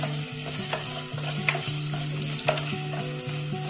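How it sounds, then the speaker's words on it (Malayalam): Potatoes fry in oil in a pan for vegetable noodles, a loud close sizzle with steady spatula stirring and periodic clinks against the pan, with no one speaking. "ഒരു പാൻ വെച്ച് അതിലേക്ക് നമുക്ക് ഓയിൽ ഒഴിച്ചു കൊടുക്കാം. ഇതിലേക്ക് നമുക്ക് പൊട്ടറ്റോ ചേർക്കാം."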